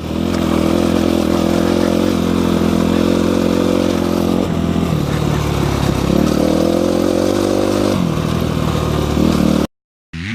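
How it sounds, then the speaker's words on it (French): A motocross motorcycle rides around a dirt track, its engine droning loud and steady with throttle changes and shifts in pitch, then cuts off briefly at the end. "il y a un pote qui est en train de faire un tour avec la moto"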